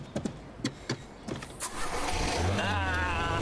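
A car engine cranks through several sputtering attempts before catching and settling into a steady idle, close by, with a little talk over the start.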